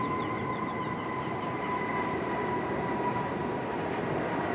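American Airlines Airbus A319 jet arriving to land at DFW Airport, a steady broadband roar with a high engine whine and tonal hum, constant and moderately loud with no pauses.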